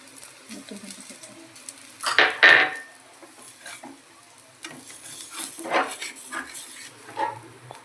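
Besan dhirda, a gram-flour pancake, sizzles in a home kitchen pan as oil is poured around its edge, giving a brief louder crackling burst followed by softer intermittent frying and faint utensil sounds.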